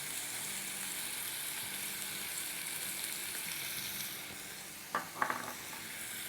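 Chicken and masala with tomato puree sizzle steadily in a pan, a soft continuous frying hiss, then a few scraping clinks of a spoon stirring near the end, with no voices.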